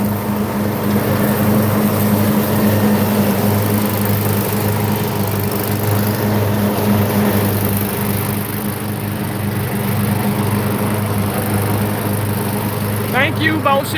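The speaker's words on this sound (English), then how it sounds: "Sorry for the noise, y'all. Just mowing the yard." A lawn mower engine drones steadily and loudly while mowing a yard, an unbroken close engine hum with no voices.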